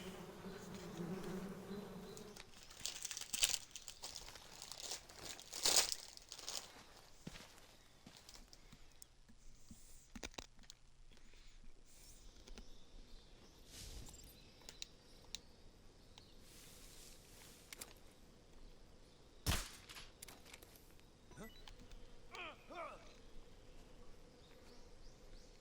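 Bees buzzing in the video game Metal Gear Solid Snake Eater, a steady insect drone running throughout with faint game ambience and occasional sharper effects, no talking.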